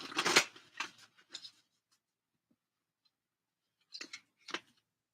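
A deck of moonology oracle cards being shuffled: short bursts of papery riffling and flicking close by, a busy cluster at the start, then a silent gap, then two more brief shuffles near the end.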